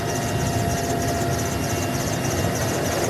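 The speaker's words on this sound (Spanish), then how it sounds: "Estamos a bordo de un helicóptero del ejército en ruta a Santa Rosa" Army helicopter in flight, heard from on board: a loud, steady engine and rotor roar with a rapid rhythmic blade chop running throughout, no talk.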